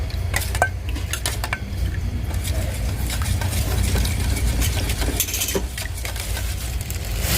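Stirring duck blood into a dish in a pan, with repeated metallic scrapes and clinks of a utensil against the pan over a steady low hum, close and continuous throughout.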